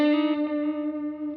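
Sustained overdriven electric guitar note run through a warm tape delay on a Nano Cortex 2.0, with soft repeats trailing and decaying beneath the held tone, no voices.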